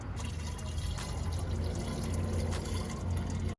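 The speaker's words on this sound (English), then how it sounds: "Just gotta get some coolant in there." Coolant pours steadily into a turbo Honda Prelude's cooling system, a continuous close splashing trickle of liquid lasting several seconds before stopping abruptly.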